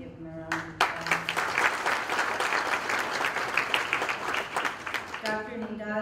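An audience at an event bursts into sustained applause, dense clapping that swells and holds for several seconds, with someone speaking through a microphone just before it and again as it fades.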